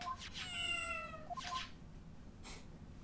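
A cat meows in the Phoenix Wright: Justice for All video game: two clear, close meows close together, then a fainter third, over a quiet background hum.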